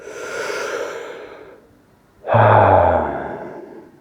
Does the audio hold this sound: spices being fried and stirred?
no